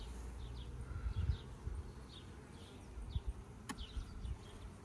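Honey bees buzz around the hive frames of a colony that still holds capped brood. A faint, steady hum rises and falls, with some soft handling bumps and no voices.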